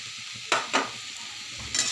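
Maggi masala, turmeric and salt tipped from a bowl into a pan, giving a few soft sprinkling bursts over a steady background hiss, with no talking.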